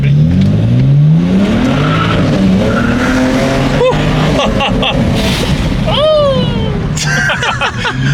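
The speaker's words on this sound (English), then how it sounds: "so we're going to do a pull in Rex's, what is it? What is it? A 330i? 335i" A BMW 335i twin-turbo launches hard with traction control engaged, its engine loud and sustained as tires squeal and chirp in short bursts. Excited voices talk over it inside the car throughout.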